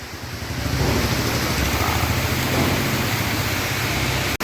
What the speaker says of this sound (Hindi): देख ले भाई बारिश कितनी तेज आ रही है।